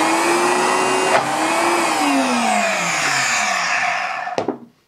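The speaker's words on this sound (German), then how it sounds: "Darum mixe ich es jetzt nochmal auf der hohen Stufe." A kitchen blender running on high speed, blending a vegan, gluten-free pea spread: a loud, steady motor whine whose pitch slowly drops, with a sharp thud near the end before it winds down to silence.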